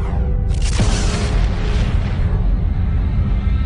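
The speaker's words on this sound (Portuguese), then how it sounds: "Em nossa galáxia, a Via Láctea, uma imensa estrela explode" A huge star exploding in the Milky Way galaxy, rendered as a cinematic effect: a loud, deep boom bursts in after a brief quiet, then a sustained roaring rumble fills the rest of the clip.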